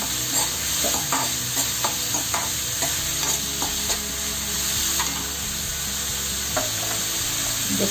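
Turmeric sautéed and stirred in a pan for a Malvani-style mixed vegetable dish, a steady close sizzle with repeated scraping and clinking strokes of the spoon throughout, no talking.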